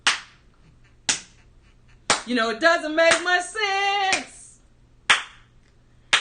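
Single person clapping hands in a slow, steady beat, sharp isolated claps about once per second, close and clear, with a voice speaking briefly between claps.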